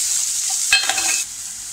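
Chopped onion sautéing in a pan over a low flame, a continuous gentle sizzle with one short stir or scrape midway, close and alone.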